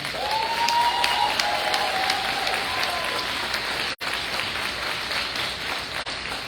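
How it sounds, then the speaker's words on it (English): A graduation audience applauds guests with sustained, dense clapping that fills the hall, steady and loud from start to finish with a brief dropout near the end. "Will you please join me in giving another round of applause to all of our guests today?"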